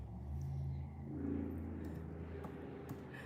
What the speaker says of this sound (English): Y'all hear that truck?